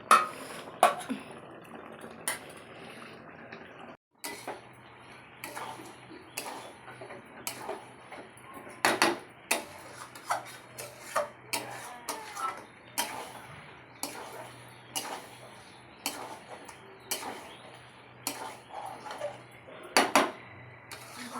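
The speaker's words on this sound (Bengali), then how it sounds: "বন্ধুরা মাংসটা কষাচ্ছি" A spoon stirs chicken being braised in a pot, with frequent irregular metallic clinks and scrapes against the pot over a faint low hum, and no talking.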